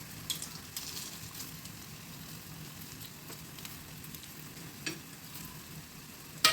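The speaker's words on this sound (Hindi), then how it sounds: "थोड़ा इस तरह से साइड में से ऑयल लेते हुए इन बड़ों के ऊपर डाल देंगे ताकि पलटते समय चिपके नहीं बड़े" Mung dal vadas frying in hot oil give a steady low sizzle throughout, with a few soft clinks and stirring scrapes near the end; no voices.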